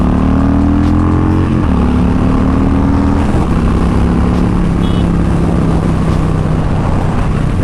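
A Harley-Davidson Softail Slim 107 cruiser motorcycle pulls hard in a loud, steady engine roar, its pitch climbing through each gear and dipping briefly at roughly two shifts, with rushing wind noise throughout and no talk.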